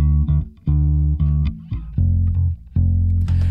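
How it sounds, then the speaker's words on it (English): A bass guitar track routed through an EQ plugin plays alone, a series of deep sustained notes with distinct attacks and short gaps between them, loud and close. "So this time I've got the plugin inserted on a bass guitar track"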